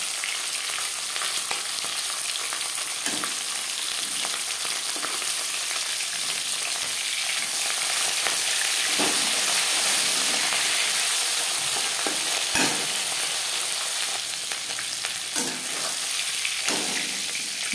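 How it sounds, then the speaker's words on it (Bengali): Khoira fish frying in oil in a pan makes a loud, continuous sizzle throughout, with occasional soft scrapes and stirs and no talk. "মাছ এক পাশ ভাজা হয়ে গেছে"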